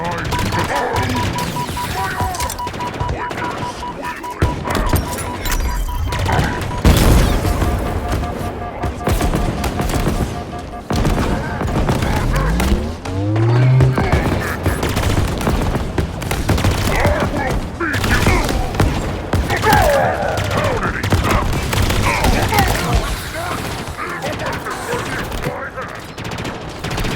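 Sustained fusillade of weapon fire in the Halo Infinite campaign, steady rapid shots and machine-gun bursts running throughout at close range, mixed with voices and sci-fi combat effects.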